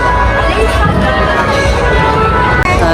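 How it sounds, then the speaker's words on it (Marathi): Dense crowd hubbub at the Girgaon Shobhayatra procession in Mumbai, a steady loud wash of many voices and movement filling the whole stretch, with one brief sharp knock near the end. "गर्दी बघा."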